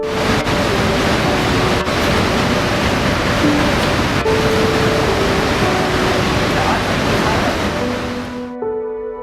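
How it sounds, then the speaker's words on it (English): Niagara Falls in winter, partly frozen from the bottom, roars as a steady, loud broadband rush of falling water with some wind buffeting, continuous for about nine seconds before fading at the end. "And this is what Niagara Falls looks like in winter"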